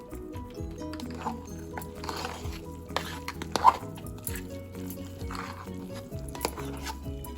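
A spoon scraping and knocking around a pot as thick pongal is stirred with milk, soft repeated clatters with a louder clunk midway.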